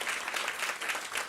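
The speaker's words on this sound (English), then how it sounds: "Give her a round of applause." Steady audience applause from a conference crowd welcoming a speaker, dense even clapping throughout with no pauses.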